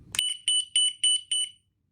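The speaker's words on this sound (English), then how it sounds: "I'll show you the alarm, how it sounds in a second here." A smoke and carbon monoxide detector alarm rated 85 dB gives a click, then four sharp, high-pitched beeps in an even rhythm, loud and close, before stopping.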